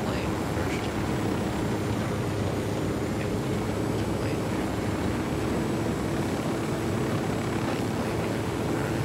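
A broad, continuous roar of an aircraft engine in the video game Ghost Recon Wildlands holds steady and loud throughout, with no break in the drone.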